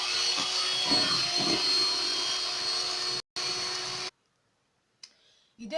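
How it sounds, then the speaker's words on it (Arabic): An electric hand mixer whirs steadily close by as it beats eggs for a pan cake, then cuts out abruptly near the end, leaving near silence before a brief restart. "اذا نحاولوا نخدموا بالميكسور."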